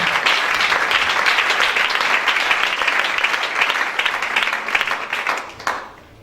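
A church congregation at a worship service applauds and cheers, with dense sustained clapping and crowd noise that fades out in the final second.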